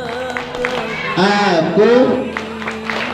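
Children chant the "tepuk anak soleh" clapping song together, a loud group of young voices with rhythmic hand claps punctuating the chant, close and lively.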